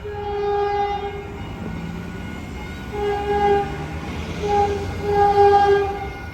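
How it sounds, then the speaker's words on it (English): Caltrain 133, a local train, arrives at Menlo Park Station with a loud horn sounding in several long blasts over the rumble of the approaching train. "here comes Caltrain 133, the local train to San Francisco"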